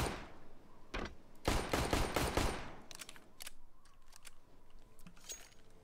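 Bursts of gunfire from a first-person shooter on the Nuke map, firing up through a metal roof: a long rapid volley in the middle, with scattered sharp single shots and short clatters before and after.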